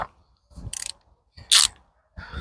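Ratchet wrench with a 19 mm socket worked on an electric bike, short bursts of quick ratcheting clicks, close and fairly loud, separated by pauses with faint handling sounds.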